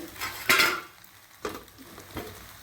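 Fried, cut chilli chicken tipped into a hot pan and stir-fried for kothu chappati, with a few distinct clattering stirs and a brief sizzle, close and moderately loud.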